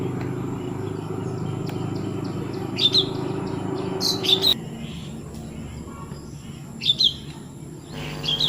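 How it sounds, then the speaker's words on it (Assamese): Birds chirp in short bright bursts from some distance on a cloudy day by a small flower garden, over a steady low background hum and faint insect buzz. "চৰাইৰ মিঠা মাত শুনত শুৱগা কৰি তুলিছে"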